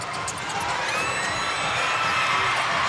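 A packed crowd at the Caloocan Sports Complex roars through a basketball finals game, loud and sustained with shrill whoops, swelling slightly toward the end.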